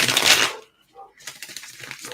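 Tarot cards spill out of a bad shuffle in a quick papery burst of flicking and scattering, followed by a quiet gap and then light shuffling and handling noises nearby.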